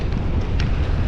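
Wind blowing beside Lake Waihola by a boardwalk, a steady, loud rushing buffet across the microphone with no talk.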